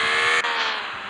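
A heavy car drives on an impossible track with speed breakers in a mobile car-crash game, its engine giving a loud, sustained whining drone with a brief dip partway through before it carries on slightly quieter.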